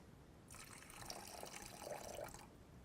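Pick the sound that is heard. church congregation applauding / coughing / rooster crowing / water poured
water poured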